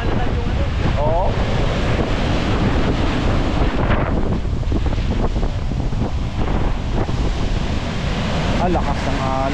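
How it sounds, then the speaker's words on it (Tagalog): Strong ocean waves surge and wash continuously at sea under heavy wind buffeting on the microphone, with people talking briefly. "Lakas ng alon, no?"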